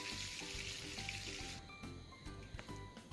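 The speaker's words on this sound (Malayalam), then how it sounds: "ചിക്കൻ നന്നായിട്ട് ഫ്രൈ ആയ ശേഷം കോരി മാറ്റാം." Chicken pieces fry in hot oil with a steady, close sizzle and faint stirring clicks, with no voices.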